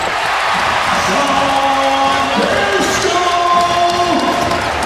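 A basketball crowd at a VCU versus Rhode Island game in 2024 roars and cheers as Max Shulga's 1,000 points are announced, a loud, sustained wall of cheering with whoops and a public-address voice over it.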